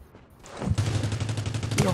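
Rapid automatic gunfire in the battle royale game Rules of Survival, starting after a brief quiet moment and continuing as a dense stream of shots, with a voice talking underneath.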